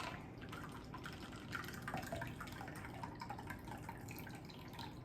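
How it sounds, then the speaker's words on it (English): A watermelon berry vodka cocktail pours into a small glass, a quiet continuous trickle of liquid lasting several seconds in a still room. "We are just going to pour it into the glass."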